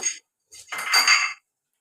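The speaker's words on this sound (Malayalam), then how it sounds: "നന്നായിട്ട് ഇളക്കി കൊടുക്കുക" A metal spoon scraping and clinking against a cooking pot while stirring a prawn curry, a short knock followed by a longer grating stroke, close and clear with no talk.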